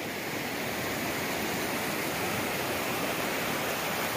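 Steady broadband rush of a large river flowing through a valley along the Appalachian Trail, loud and continuous with no voices.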